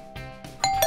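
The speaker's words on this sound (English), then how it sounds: "It sounded like a doorbell." A doorbell chimes, two bright ding-dong tones ringing out clearly near the end after quieter sounds, with no talking over it.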